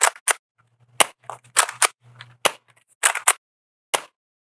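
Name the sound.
Nerf Rival Roundhouse blaster firing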